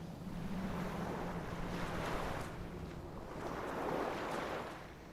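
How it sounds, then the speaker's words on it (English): Ocean waves in the video game The Last Door, slow swelling surges of surf rolling in and receding with a windy, breathy wash throughout. "that sounds like the ocean, too."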